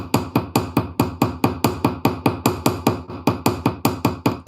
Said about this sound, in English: I like to take it along the edge and just take the ball peen side, so this side here, and give it little taps all around the edge.